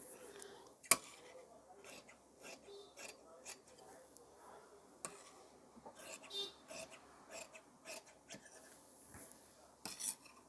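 Tailoring scissors snip through blouse fabric in scattered, quiet cuts, with a few sharper clicks, under soft speech nearby.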